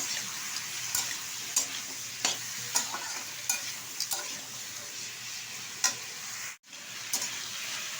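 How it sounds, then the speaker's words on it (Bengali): Okra and potato curry being stirred in a pan, a steady sizzle punctuated by regular spatula scrapes and knocks against the pan, repeating every half second or so, with one brief gap of silence near the end. "ভালোভাবে নেড়ে চেড়ে নেব।"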